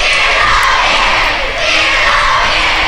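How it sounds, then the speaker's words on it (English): A wrestling arena crowd chants steadily during a Matt Cross match, a dense, loud, sustained roar of many voices filling the hall with little break. "Listen to this crowd just chant "Fear the Beard.""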